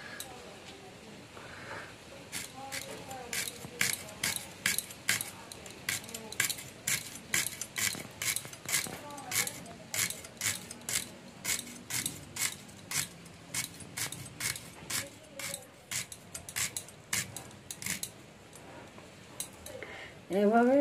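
A knife chops through radish in a hill village kitchen with a long run of quick, crisp, evenly spaced cuts, close and steady, as a voice talks over it.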